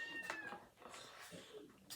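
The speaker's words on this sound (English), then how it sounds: "That's my cat." A kitten indoors gives a few short, faint meows spread over two seconds, thin high calls against quiet background.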